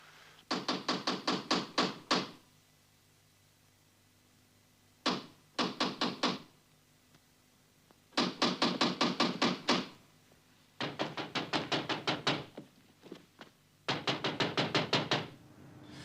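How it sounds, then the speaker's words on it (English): Someone knocks on a door in five bursts of rapid, crisp raps separated by quiet pauses, close and clear, with no voices. "Somebody at the door."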